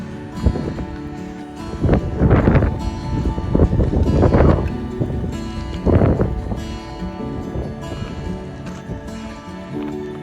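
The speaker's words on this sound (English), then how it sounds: "we've got about probably 10-mile-an-hour winds with maybe 18 to 20-mile-an-hour gusts" Gusty wind on the South Rim trail in Big Bend National Park buffets the microphone in rumbling bursts that rise and fall over about ten seconds. No one speaks.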